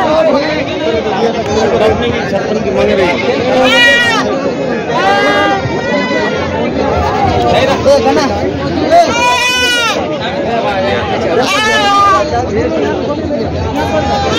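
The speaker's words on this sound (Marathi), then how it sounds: "या साईडला संपूर्ण बकरी आहेत." Goats bleat repeatedly at the Thursday Khandoba goat market in Parbhani, Maharashtra, several loud nearby cries rising over a constant babble of crowd chatter and people talking.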